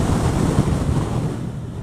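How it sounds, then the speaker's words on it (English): Steady, heavy wind buffeting roars against the microphone of a Yamaha XJ6F motorcycle crossing the Humber Bridge on a windy day, a dense low rumble with no letup. "I'm just crossing the Humber Bridge."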